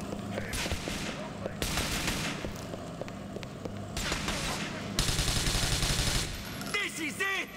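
Sustained bursts of automatic gunfire in Grand Theft Auto IV, loud and dense, coming in several long volleys with short gaps, a brief voice near the end.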